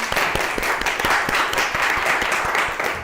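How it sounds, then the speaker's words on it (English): An audience at a technical talk applauds, a dense, steady patter of many hands clapping at moderate distance for a few seconds. "Again, round of applause for Natalie."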